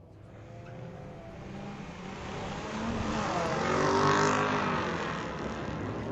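A 2007 Lexus and a 2017 Subaru WRX roar off the line together in a street-legal drag race at Mission Raceway Park, their engines rising in pitch as they accelerate, swelling louder toward the middle, then fading slightly.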